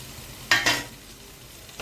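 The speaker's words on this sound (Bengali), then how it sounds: "দিয়ে ভালোভাবে একসাথে সবকিছু মশলা মিশিয়ে নিচ্ছি।" A spoon scraping and stirring spice masala with onion, green chili and tomato in a pan, two quick close scrapes followed by a fainter one after a pause.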